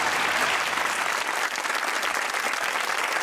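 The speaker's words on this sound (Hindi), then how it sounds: "तशरीफ रखे, तालियां होनी चाहिए।" A studio audience at a comedy talk show's Eid special breaks into full, continuous applause, a loud and even wash of many hands with no pauses and little speech.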